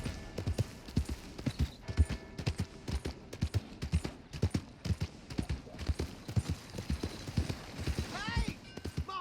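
Steady clip-clop of horse hooves at a walking pace, with a brief voice and a whinny near the end, in the video game Red Dead Redemption 2.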